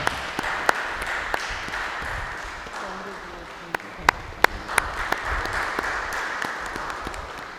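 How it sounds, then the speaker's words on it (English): Congregation applause for a priest at a feast day Eucharist in a cathedral, a steady reverberant clapping wash with a few sharper individual claps standing out, continuing throughout. "please give a big hand of applause to Father Akash"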